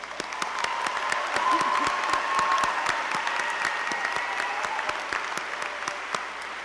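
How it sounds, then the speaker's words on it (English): At a university honors convocation the audience claps steadily, a full hall of applause with crisp separate claps throughout, holding at an even level for the whole stretch. "It deserves another round of applause."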